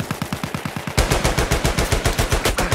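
Rapid automatic gunfire from a Battlefield 1 match, loud bursts starting softer then growing heavier after a second, steady fast rhythm with no speech.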